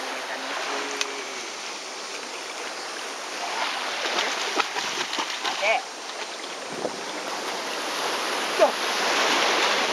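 Ocean waves wash and rush in a broad, steady roar with swelling surges, heard outdoors near the water and mixed with a wind-like hiss and occasional faint voices.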